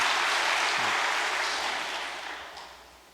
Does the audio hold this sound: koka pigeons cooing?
no